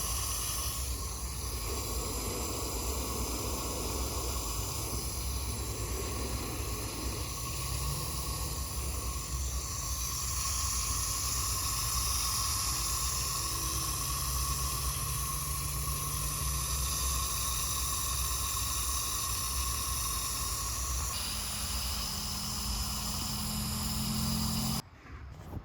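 Water from a garden hose soaks garden soil on a hot summer morning, a steady, unbroken hissing spray that holds at the same level throughout and cuts off abruptly at the very end.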